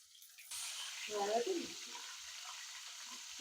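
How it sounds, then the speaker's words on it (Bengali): Vegetables frying in a pan, a moderate sizzle starting after a brief quiet moment and continuing steadily, with a short tonal scraping burst partway through and no talk. "এটা তো ফ্রাই করে নিই।"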